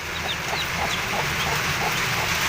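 Chickens clucking softly over constant background noise, with small high peeps from about eight newly hatched chicks mixed in.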